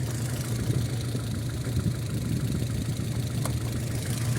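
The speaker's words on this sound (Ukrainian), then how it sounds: "Простий восьмиклапанний мотор." A VAZ 2115 simple eight-valve engine idles steadily with a low, even rumble and a faint ticking rhythm, close by and alone, with no talking.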